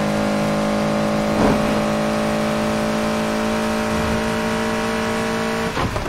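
Race car engine in Need for Speed Heat holding a loud, steady high-revving drone, with pitch shifts as gears change around the middle and near the end.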